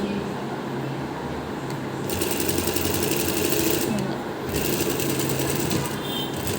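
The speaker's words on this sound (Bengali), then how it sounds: "সেলাই শুরুতে ব্যাক স্টিচ দিয়েছেন" A sewing machine stitches a panel onto a pleated salwar, running in quick rattling bursts with short pauses between them, fairly close and loud against a faint room background.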